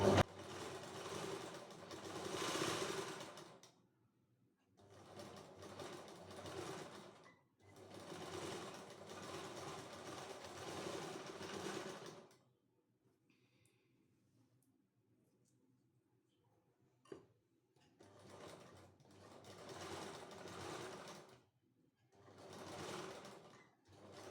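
A sewing machine stitches an organza blouse in repeated bursts of whirring, rattling motor noise, separated by quiet gaps with a few soft clicks, and a voice speaks briefly between runs.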